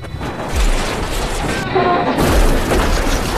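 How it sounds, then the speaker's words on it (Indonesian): Car crash and explosion on a bridge from the heist film Now You See Me, with an overturned, burning car: loud booming impacts and dense crashing noise fill the whole stretch, with some voice-like sound mixed in. "mobil Jack terbalik dan terbakar di jembatan"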